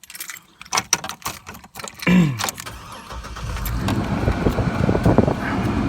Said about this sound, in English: And now when I crank my vehicle up,